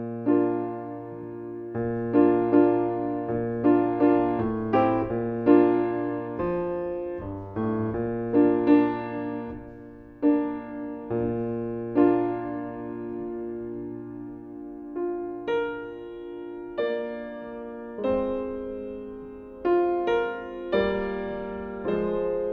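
An excerpt of Copland's Appalachian Spring played as a melody in shifting meter, grouped in threes and twos, with clear pitched notes in uneven rhythmic clusters and brief pauses between phrases, heard alone at moderate volume without any talking.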